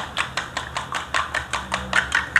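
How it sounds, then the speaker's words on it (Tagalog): Eggs with salt and Magic Sarap seasoning beaten quickly in a bowl, a fast, even run of about a dozen close tapping clicks from the utensil against the side. "Hahaluin lang natin muna mga tol ang itlog."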